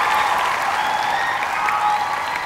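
Sustained audience applause for a Thai singer on a televised song-contest stage, dense and steady throughout with a faint crowd murmur underneath.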